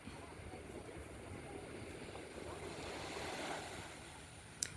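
Waves wash in steadily at a beach, a continuous broadband roar with wind buffeting the microphone, ending with a brief sharp knock.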